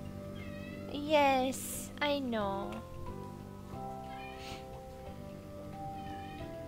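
A house cat meows loudly and close by, giving two drawn-out, rising-and-falling cries in quick succession, then fainter calls follow. A person talks briefly over the quieter part.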